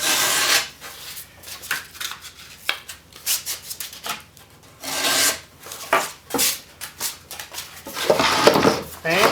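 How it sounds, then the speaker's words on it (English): A Zenith table radio being hand-sanded with 220 grit sandpaper, giving loud, close, rhythmic rasping strokes in quick succession, with some talk mixed in. "And we're just going to sand it up."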